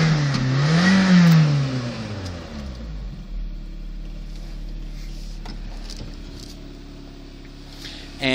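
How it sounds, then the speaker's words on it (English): A supercharged Toyota MR2 engine revs up, its note climbing then falling back to a steady, close mechanical drone with a whirring undertone. "the supercharger itself actually kind of sounds like a vacuum cleaner when it's on"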